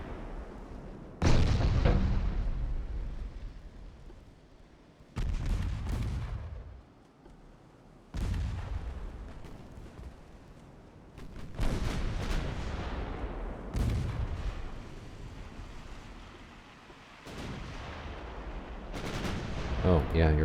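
Naval guns shell a destroyer in the warship game Ultimate Admiral: Dreadnoughts, with a run of deep, booming salvos spaced a few seconds apart, each rolling off into rumble, a voice talking faintly between them.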